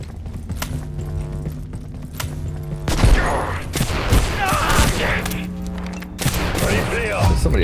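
Gunfire in the video game Abiotic Factor sounds as rapid bursts of shots with heavy thuds, loud and dense under ongoing game noise, while a player talks over it.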